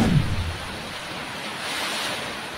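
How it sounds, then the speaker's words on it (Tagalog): Steady roaring wind with rain from Typhoon Aghon in Batangas, Philippines, a broad rushing hiss buffeting the microphone at the start, continuous and loud throughout. "Malalakas na hangin at ulan"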